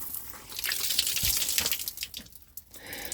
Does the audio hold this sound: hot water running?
yes